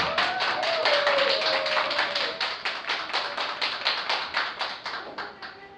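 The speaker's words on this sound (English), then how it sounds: "I think they deserve a round of applause." Sustained applause from a debate audience, a dense patter of many clapping hands at moderate distance that holds steady, then slowly thins toward the end.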